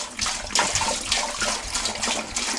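Roughly 1.5 litres of water pour into a pot for steaming fish at an outdoor camp cook, a steady splashing gush with uneven surges throughout.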